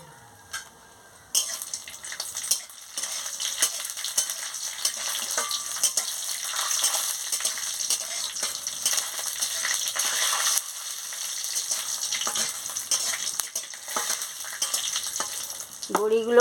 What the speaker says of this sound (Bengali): তেল গরম হয়ে গেছে, আমি বড়িটা ভেজে নিচ্ছি।